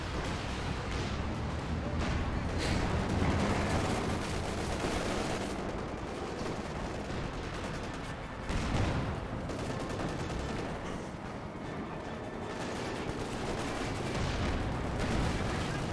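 Sustained battle din from Company of Heroes 2, with dense gunfire, machine-gun bursts and booming artillery barrages rolling continuously at steady loudness, with a few heavier blasts standing out.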